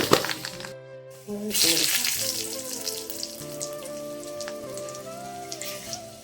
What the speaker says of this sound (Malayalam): ഇനി കറിക്ക് വേണ്ടിയിട്ട് കടുക് പൊട്ടിക്കാം.